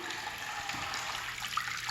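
Water pouring through holes in a container like falling rain, a steady close patter and trickle of drops in a sensory play activity, with no talk.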